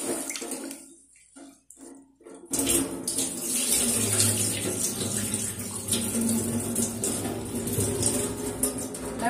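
Hominy corn being rinsed under a running kitchen tap, a steady close gush of water splashing into a sink that starts after a couple of seconds of quiet and runs on without pause.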